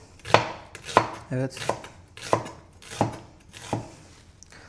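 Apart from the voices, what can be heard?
chopping sweet onions with a knife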